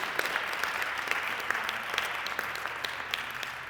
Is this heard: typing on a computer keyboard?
no